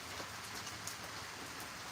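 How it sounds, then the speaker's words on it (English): Heavy rain pouring down outdoors onto a yoga mat and surroundings, a steady dense patter of drops with scattered sharper hits, faint and continuous. "it is pouring down"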